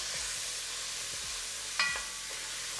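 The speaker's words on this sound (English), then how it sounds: "And also, I'm going in with some tomato paste, okay? Going to give that a stir." Tomato paste stirred with onion and celery in a Dutch oven: soft scraping strokes of a utensil over a low, steady sizzle, with one brighter clink or scrape near the end, close and fairly quiet.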